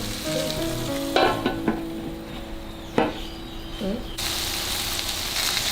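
Beef patties sizzle steadily in a hot pan, a constant frying hiss broken by a few spatula taps and scrapes as they are turned.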